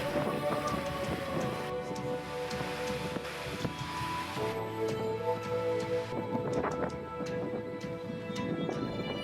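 Rain and gusty wind on a rugged coast, a steady broad wash of falling rain and buffeting air with some tonal hum beneath, continuous and moderately quiet with no speech.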